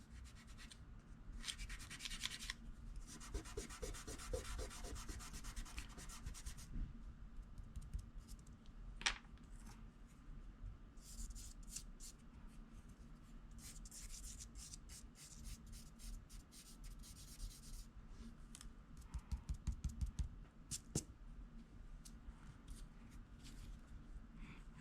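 An eraser and compressed charcoal rub and scratch across toned paper in close, faint bursts of scrubbing strokes with short pauses between them.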